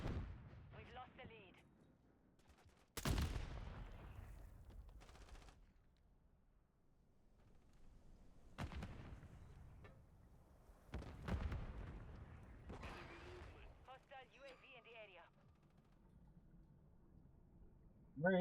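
M16 rifle shots in a video game: a handful of sharp, loud reports at irregular intervals over a steady in-game background, with someone talking between and around the shots.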